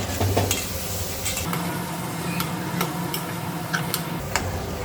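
Dried prawns, sliced onion and green chillies frying in oil for an Andhra-style drumstick curry, giving a steady close crackle with scattered sharp ticks and light stirring scrapes throughout.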